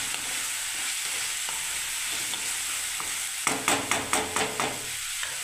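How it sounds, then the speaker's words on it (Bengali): Chilli powder masala and vegetables are sautéed in a pan with a steady close sizzle, joined near the end by several rhythmic scraping stirs of a spoon against the pan. "দেখুন মশলাটা এবারে একটু আমি কষতে দিচ্ছি"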